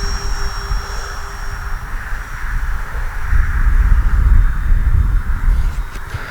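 A Flightline OV-10 Bronco RC model airplane engine drones steadily at a distance, swelling louder as it passes low and slow with flaps down, with wind rumble underneath.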